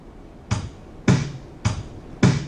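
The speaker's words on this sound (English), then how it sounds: "So in RAS, the drums just sound like this." Simple generated drum beat striking once at the start of each bar, four evenly spaced sharp hits with short decays, metronome-like and alone.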